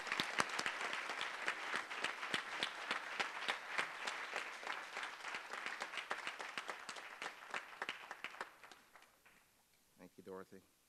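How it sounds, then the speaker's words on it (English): Sustained, dense audience applause at a luncheon welcomes a professor, steady and full for about eight seconds before fading out, with a voice beginning to speak near the end. "Let's give him a round of applause."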